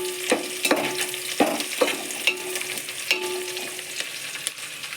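Paper poha tempering with green chillies being stirred in a frying pan, a steady oily sizzle broken by repeated spatula scrapes and knocks against the pan, close and clear.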